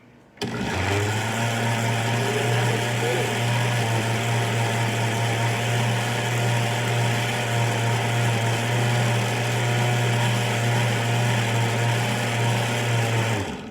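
An electric hand mixer whirring steadily through keto waffle batter, a loud, close, continuous motor drone that starts abruptly and holds an even pitch throughout without talk.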